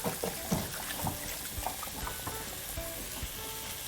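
Mutton browning in a pan for biryani, a steady close sizzle and fry with scattered crackles and stirring scrapes, no voices.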